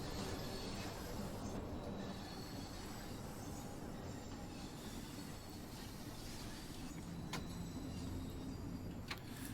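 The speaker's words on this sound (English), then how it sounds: "Getting lots of squealing from the train wheels." Wheels of a Bakerloo line 1972 tube stock train squeal in Train Sim World 2 during a slow depot move near Stonebridge Park, over a steady rumbling rail roar, with thin high screeches and a couple of sharp squeal bursts near the end.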